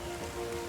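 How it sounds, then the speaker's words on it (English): Rain falling in the video game Terra Nil, a soft, steady patter of drops with a continuous hiss, even and unbroken throughout the short moment, with no voices. "Let us go ahead and appreciate here for a few minutes in the rain"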